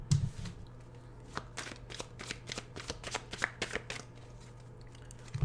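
Tarot cards being shuffled close by in quick riffling bursts, a series of crisp flutters with brief pauses, over a faint steady hum.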